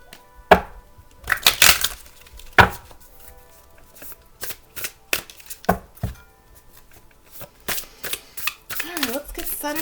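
Tarot cards are shuffled and handled during a reading, with sharp riffles and slaps in irregular bursts, close and fairly loud, and a voice speaking briefly at the end.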